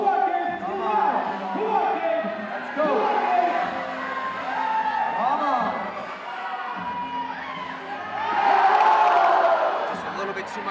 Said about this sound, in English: feeling the energy from the crowd